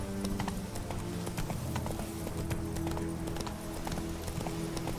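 A horse gallops in The Witcher 3: Wild Hunt, Blood and Wine, through mountain terrain and over a bridge, steady clip-clop hoofbeats in a fast rhythm, close and continuous under a constant layer of game music and ambience.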